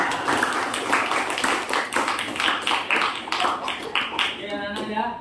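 A class of students at an Islamic senior high school claps together in rhythmic bursts, steady and fairly loud throughout, with a few voices mixed in before the applause fades near the end.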